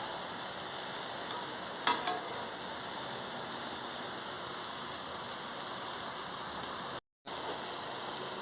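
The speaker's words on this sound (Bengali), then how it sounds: "অল্প করে জল দিয়ে দিচ্ছি" Water splashed into a pan of frying water spinach (kalmi shak) sets off a steady, moderate sizzle and hiss, with a couple of brief clatters near the start and a short dropout late on.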